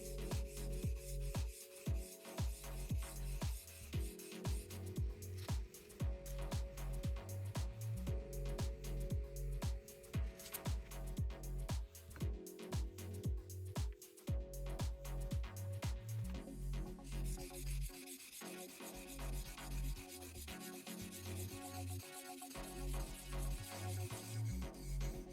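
A woodworking chisel being rubbed back and forth across sharpening stones, a steady rhythmic rasping of repeated close strokes that continues throughout over background music.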